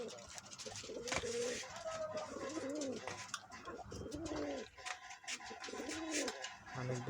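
Several Dhaka Giribaz pigeons coo repeatedly at close range, their soft rolling calls overlapping in a steady rhythm with faint background noise.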